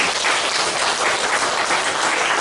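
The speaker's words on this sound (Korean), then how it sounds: "박수 부탁드리겠습니다" Audience applause at a church service, a loud, dense wash of clapping that fills the space continuously with no pause and no voices over it.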